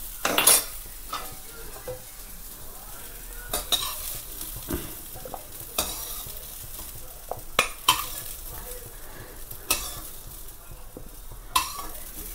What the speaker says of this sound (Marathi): अशी थोडंसं लाल लाल होईपर्यंत फ्राय करून घ्यायचं आहे ह्याला